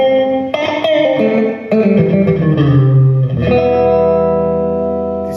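An electric guitar chord rings through a plate reverb at a Shark Guitars factory in Turkey, a few strummed chords with a lush, shimmering tail that swells and sustains before slowly decaying, loud and close.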